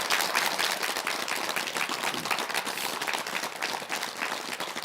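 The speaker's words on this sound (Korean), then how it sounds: "큰 박수 주십시오" A studio audience at a televised health clinic program applauds loudly and continuously, a dense wash of many hands clapping with no talk over it.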